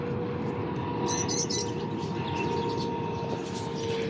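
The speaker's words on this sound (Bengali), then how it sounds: "এই যে কাতারে একটা বিমান যাচ্ছে" A Qatar Airways airplane passes overhead above a rooftop pigeon-feeding spot, a steady broad rumble filling the whole stretch, with a few brief bird chirps early on.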